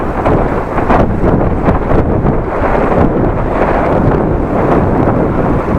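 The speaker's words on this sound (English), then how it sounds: "there is a lot of wind at the moment. Headwind." Strong headwind buffets the microphone while cycling through rural Groningen in the Netherlands: a loud, continuous roaring rumble with gusty surges throughout and no voice over it.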